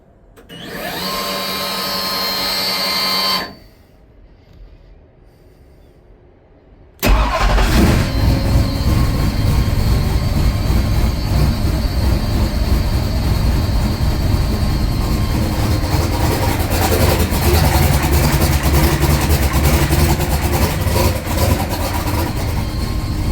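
Turbocharged big block Chrysler engine with a small vacuum leak, an initial whirring burst, a short lull, then a loud sustained rumbling idle running close and steady for the remainder.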